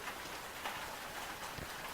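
Steady rain falls outdoors, an even, close hiss of drops on a surface with no other sounds over it.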